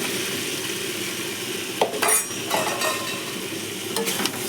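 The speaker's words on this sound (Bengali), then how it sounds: "মাছটা দিয়ে ভালো করে মশলাটার সাথে কষে নেব" Fish frying and being stirred into a spicy masala, a soft continuous sizzle broken by a few scraping stirs and clinks of a utensil against the pan, close by and without speech.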